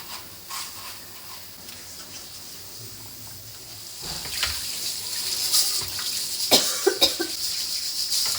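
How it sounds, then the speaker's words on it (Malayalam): Kitchen dishes being washed under a running tap during an early morning cleaning routine: a steady stream of water with scattered clinks and knocks of utensils, growing busier toward the end. "ഇതാ ഉള്ള പാത്രങ്ങൾ ആ ഒരു സമയം തന്നെ വേഗം കഴുകി വെക്കുന്നുണ്ട് കേട്ടോ"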